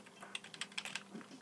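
Computer keyboard keys are pressed while playing the game Lester the Unlikely, giving a quick run of light, close clicks at an uneven pace over faint background hiss.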